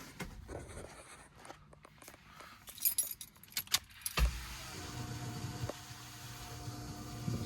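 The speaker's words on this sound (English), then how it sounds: "Cycle the key a couple of times" Car keys jangle and click as a key is turned in an ignition, a run of small metallic rattles, then a sharper clunk and a steady low electrical hum with a faint whine as the fuel pump runs.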